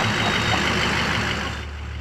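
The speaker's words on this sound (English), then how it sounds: "One of them decides he wants to show off the size of his engine." A large truck engine idles and revs loudly right near a hotel, a steady heavy rumble filling the whole moment before easing slightly at the end.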